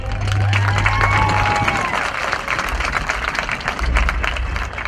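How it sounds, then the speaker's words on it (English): A crowd applauds and cheers for graduating seniors at a school spring music concert in an outdoor stadium, sustained broad clapping with crowd noise and a low tonal hum throughout. "Would you please stand up and receive some applause?"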